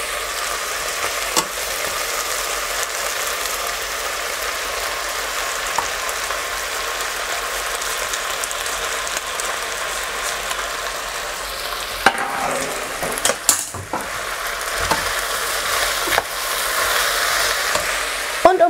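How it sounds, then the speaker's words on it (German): Vegetables and white quinoa sauté in a pot for a vegan chili with potatoes, a continuous soft sizzle and hiss running steadily, with a few brief scraping stirs and clatters near the end. "Das Gemüse lassen wir jetzt für ungefähr 2 bis 3 Minuten ordentlich andünsten."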